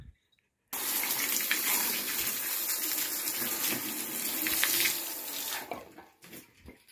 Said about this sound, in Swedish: spola ut ordentligt nu när man kommer upp i huset. I alla kranar så man får bort den här